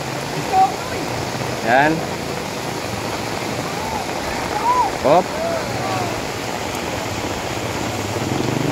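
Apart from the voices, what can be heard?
heavy rain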